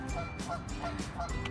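Geese honking at a lake on a Minnesota morning, several short nasal calls repeating irregularly at moderate distance over faint background noise.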